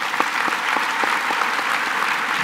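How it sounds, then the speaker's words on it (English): Audience applause at a live interview event with Arnold Schwarzenegger, a sustained burst of clapping from a crowd, loud and even throughout with individual claps faintly distinguishable. "Give him a round of applause."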